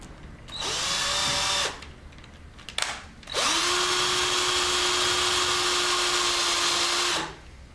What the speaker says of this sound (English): use a hand drill.